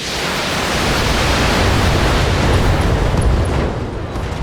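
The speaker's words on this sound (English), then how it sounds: "I'm probably just going to launch some missiles at" Missile explosion in the BattleTech video game, a loud, dense roar of noise that sustains for several seconds before thinning out, with no talking.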